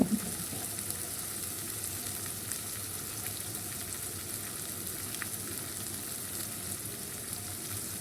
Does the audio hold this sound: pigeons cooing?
no